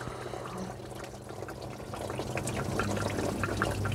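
Coolant drains from a Jeep Wrangler 4.0 engine during a thermostat replacement, a steady trickling pour of liquid that grows slightly louder, close and alone.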